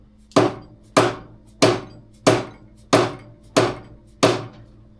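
A dead blow hammer strikes seven times at an even, steady pace, seating an inverted front fork on an Ice Bear. Each hit is a loud, close, dull thump that fades quickly, and no one speaks.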